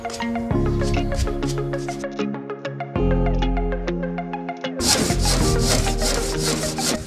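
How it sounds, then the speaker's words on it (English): Hand sawing and sanding of wooden pieces for an aquarium lighting bracket, heard as steady rasping back-and-forth strokes close by, with music playing loudly throughout. "Make sure you cut all your wood nice and square and sand off all the edges to get a real neat finish."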